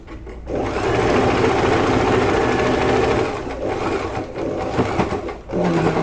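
A sewing machine runs steadily at close range, stitching a straight pant seam closed with a loud, continuous mechanical whir, then slows briefly and starts up again.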